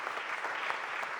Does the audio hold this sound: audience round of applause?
yes